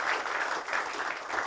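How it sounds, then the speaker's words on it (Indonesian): Seminar attendees at a business presentation clap in a dense, even burst of applause that fills the short moment. "tepuk tangan dulu buat sponsor Anda"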